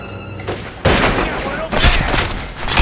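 Sniper gunfire in The Godfather 2 on PC at the Magano Compound, heavy reports bursting in around the one-second mark and again later, close and loud with voices shouting over the shots.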